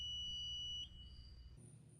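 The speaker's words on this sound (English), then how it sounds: "the control box makes an alarm sound when turned on" A portal monitor control box turning on gives a thin, high electronic alarm tone that holds steady, briefly changes pitch, then shifts to a higher beep over a low hum, close and fairly quiet.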